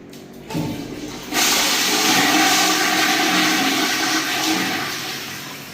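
A hotel room toilet flushes close by with a loud, rushing roar of water that starts with a short click and swell, then holds strong and slowly fades toward the end.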